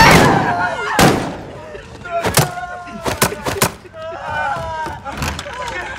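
Call of Duty combat: several sharp gunshot cracks and booms come in separate bursts, mixed with shouting voices and game noise.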